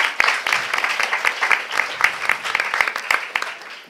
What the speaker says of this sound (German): Bitte einen herzlichen Applaus.